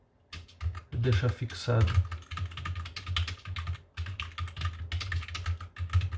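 Rapid typing on a computer keyboard, with clustered key clicks in bursts and short pauses, heard close while someone speaks over it.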